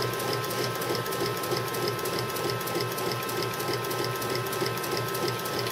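Twelve-pole axial flux permanent magnet wind turbine generator spinning at about 113 RPM, a steady close mechanical whir with rapid regular clicking ticks and a faint hum, continuous throughout with no talk.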